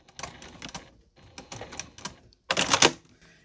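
Home sewing machine running a short back stitch along a fabric edge while making a scrap-fabric Christmas ornament, heard as close, rapid clattering bursts in three runs separated by brief pauses, the last burst loudest.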